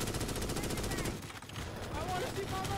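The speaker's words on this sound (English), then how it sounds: "Just keep shooting." Rapid automatic gunfire in a Starship Troopers video game, a fast steady rattle of shots that pauses briefly and resumes, with voices talking over the fire.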